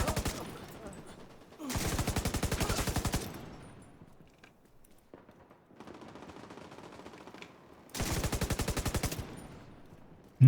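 Rapid automatic gunfire from a video game comes in two loud, sustained bursts, each lasting over a second, with quieter game sounds and muffled activity between them.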